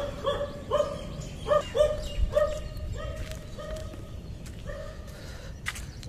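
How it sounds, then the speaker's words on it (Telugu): A dog barks repeatedly in sharp, clear bursts at a moderate distance, several barks in quick succession and then fading to sparser yelps over steady outdoor background noise. "అలా అక్కడ కుక్క అలా అరుస్తూనే ఉన్నది"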